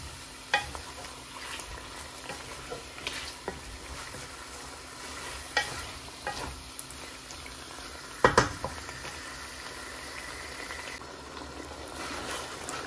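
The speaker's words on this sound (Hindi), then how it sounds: "प्रॉपर चम्मच हिला रही हूँ ताकि मसाला कढ़ाई के साथ ना लगे" A spoon scrapes and stirs potato curry masala in a kadhai over low heat, with intermittent clinks and scrapes against the metal over a soft, continuous sizzle up close.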